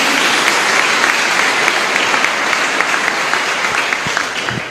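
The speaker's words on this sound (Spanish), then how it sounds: "Fuerte el aplauso también para ustedes." Many hands applaud together in a chapel at Caacupemí during a live service, a loud, sustained burst that gradually tapers off toward the end.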